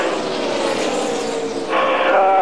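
A NASCAR race truck screams past at speed on the Charlotte oval, a loud sustained engine roar that shifts pitch as it passes close by, with no talk over it.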